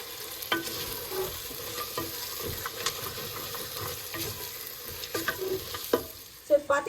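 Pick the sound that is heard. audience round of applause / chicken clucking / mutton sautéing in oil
mutton sautéing in oil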